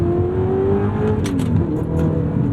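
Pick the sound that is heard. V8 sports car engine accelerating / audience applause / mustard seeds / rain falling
V8 sports car engine accelerating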